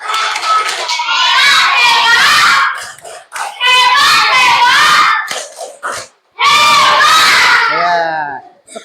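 A class of children chants and claps a rhythmic cheer in loud bursts separated by short pauses, their voices shouting together.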